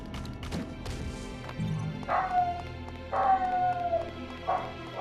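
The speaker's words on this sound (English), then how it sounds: "I don't understand why the dog's been losing his mind all morning." A dog barks three times in separate bursts, fairly loud and close, over a low steady background hum.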